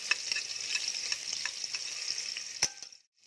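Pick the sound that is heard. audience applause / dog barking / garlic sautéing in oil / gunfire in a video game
garlic sautéing in oil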